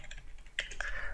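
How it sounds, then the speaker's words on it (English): Keys tapped on a computer keyboard while entering SQLite commands, a brief run of light, close clicks over a low steady hum. "I'm gonna type it."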